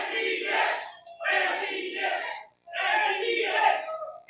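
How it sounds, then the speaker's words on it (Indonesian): Crowd at a Nasdem party event cheering and shouting in three loud, sustained bursts separated by short pauses, voices massed together with clapping mixed in. "Boleh berikan tepuk tangan yang meriah buat kita semua"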